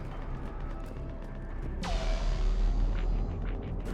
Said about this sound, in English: That's the sound of a Reaper laser.